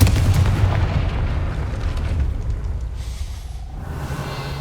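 In the Hogwarts Legacy video game, a Confringo blasting spell explodes with a heavy, booming roar that rumbles and slowly tails off.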